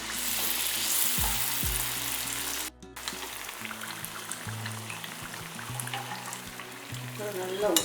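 Sugar adhirasam sweets frying in hot oil, a steady close sizzle and bubbling that carries on throughout, with a brief dropout partway through and light stirring.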